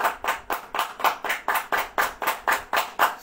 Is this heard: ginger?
no